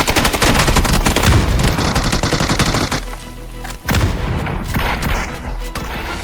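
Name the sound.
gunfire and grenades in video game PUBG, M16 rifle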